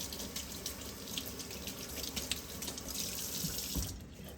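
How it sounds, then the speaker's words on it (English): Tap water runs steadily into a sink while turmeric is washed off hands, a faint, continuous splashing stream close by that tapers off at the end. "let me wash this turmeric off my hands"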